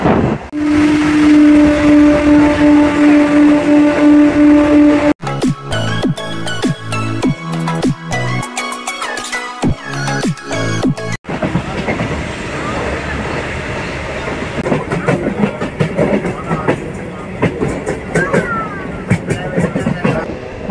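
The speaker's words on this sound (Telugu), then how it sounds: "ఇప్పుడు స్టార్ట్ అయిందో లేదు అప్పుడే చూసారా ఏమన్నా పికప్ మన బండి" A Bitragunta to Chennai Central MEMU Express runs at speed, its loud steady rumble and rhythmic clickety-clack of wheels on rail joints heard from inside, with a sharp burst of passing clatter in the middle.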